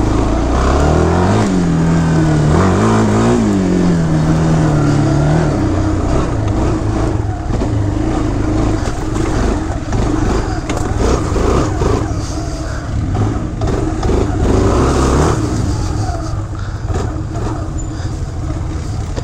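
A Bayou four-wheeler ATV engine revs loudly and close, its pitch rising and falling in rough surges, then settles into a steady drone on a muddy outing.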